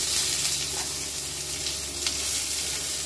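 Chopped onion in hot oil left from frying fish, with cumin seeds and a dried red chilli, gives a steady, loud sizzle and crackle with a few brief stirring scrapes.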